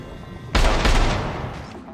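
Gunfire in the video game Syndicate, a single loud, close burst that starts sharply and decays over about a second and a half.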